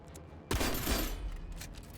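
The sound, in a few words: weapon fire in the video game Aether & Iron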